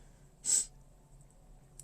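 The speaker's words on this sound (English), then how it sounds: "I have another sneeze coming on." A single sharp, loud sneeze bursts out close by during light sanding work on a model kit, with quiet breathing around it and a brief click near the end.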